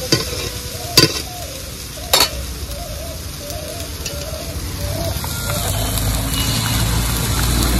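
Spinach paste frying in a pan and stirred, with a steady sizzle beneath two sharp scraping clanks from the spoon near the start, continuing without talk.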